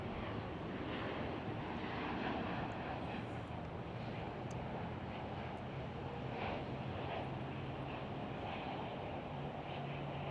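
Emirates airliner taxiing close by at Chicago O'Hare airport, a steady broad roar of jet engines with a low hum, constant and fairly loud throughout, with wind buffeting the microphone.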